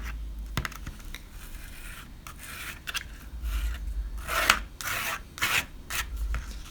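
Texture paste is rubbed through a small stencil with repeated close scraping and rubbing strokes, soft and uneven in rhythm, growing busier toward the end.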